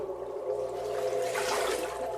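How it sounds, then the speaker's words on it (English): Water rushing and trickling inside stone catacombs, a continuous hollow wash that swells briefly in the middle, moderately loud and unaccompanied. "You can hear the water."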